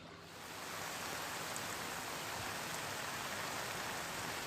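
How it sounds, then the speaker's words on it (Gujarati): Heavy early-morning monsoon downpour over the rural area around Modasa in Aravalli, Gujarat, a dense, steady hiss of rain that swells in over the first second and then holds constant, with no voices. "તો અરવલ્લીના મોડાસા સહિત ગ્રામ્ય વિસ્તારોમાં વહેલી સવારથી ધોધમાર વરસાદ પડ્યો છે"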